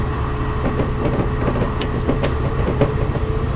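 A train in Train Simulator pulls hard at full throttle, a constant loud rumbling roar with faint clicks and rail knocks scattered through it, close and steady with no voices.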